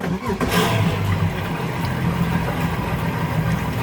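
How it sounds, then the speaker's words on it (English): A Ranger Tug boat's engine runs loud and close after being started, a constant rumbling drone with a slight rise at the start as it warms up and settles into idle. "you simply turn the key on and begin to let the boat warm up"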